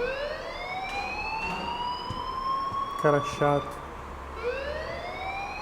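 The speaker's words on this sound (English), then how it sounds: "please turn off that alarm since that's your job" Alarm ringing in the video game Life is Strange: a loud wailing siren-like tone sweeps up and down continuously, with brief bursts of other sounds and a short spoken voice over it.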